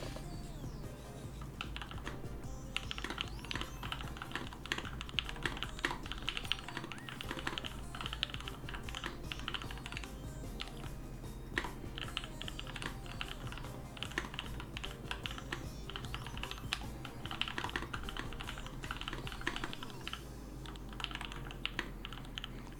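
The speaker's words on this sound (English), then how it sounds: "But they do also have a very nice typing test" A freshly built HB60 Honeyboard keyboard is typed on at speed during a typing test, giving a steady, dense stream of close, crisp keystrokes with no talk.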